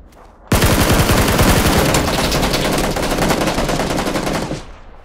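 Sustained automatic gunfire from PUBG: a loud, rapid burst of shots starts abruptly and rattles on steadily for about four seconds before cutting off, with no speech over it.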